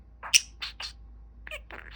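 A budgie parakeet gives a few short, sharp chirps and soft chattering notes, close by and fairly quiet, with pauses between calls.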